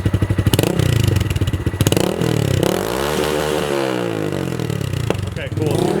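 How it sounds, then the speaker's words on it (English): A Honda Grom motorcycle fitted with a full exhaust and its baffle in, revving up and down in several loud bursts close by, with a voice speaking briefly over the engine. "Okay, go ahead and give it some revs."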